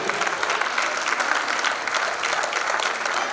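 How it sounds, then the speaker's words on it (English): Applause from a dinner audience at a Diwali community gathering, steady and dense throughout, moderately loud with no voices rising above it. "May I hear a very loud clap for all of them."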